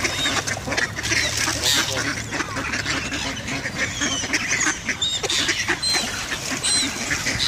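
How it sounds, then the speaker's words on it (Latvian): Ducks quacking and chattering steadily, joined by gulls, with a low background voice now and then; the calls are dense and close, overlapping in a lively flock. "Pīle."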